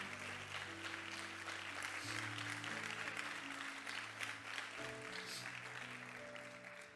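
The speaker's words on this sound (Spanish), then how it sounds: "Vamos a darle un aplauso fuerte al Señor." Church congregation applauding during a sermon, a steady wash of clapping under sustained music tones that carries on for several seconds at moderate distance.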